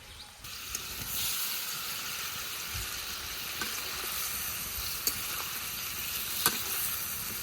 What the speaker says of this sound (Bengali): মশলাটা খুব ভালোভাবে কষিয়ে নিচ্ছি